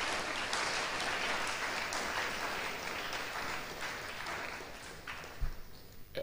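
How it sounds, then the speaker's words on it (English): Lecture-hall audience applauding their president at a memorial lecture, a steady broadband patter of many hands sustained for several seconds before tapering off, with a brief thump near the end. "Let's give our president a round of applause for summarizing."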